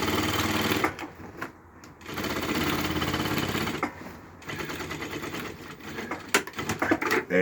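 A sewing machine stitching a double bead through wire mesh runs in fast rattling bursts, stopping briefly twice and restarting, loud and close with mechanical clatter.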